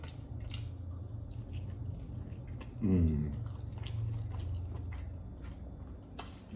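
Someone chews beef ribs up close, with soft wet squishing and mouth noises over a low background hum and one louder juicy bite in the middle.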